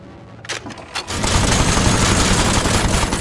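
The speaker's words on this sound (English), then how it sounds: "shoot the Gatling gun" Gatling gun fire in the video game Aether & Iron, starting with a few separate heavy shots and then a continuous loud, dense roar of rapid fire that holds steady to the end.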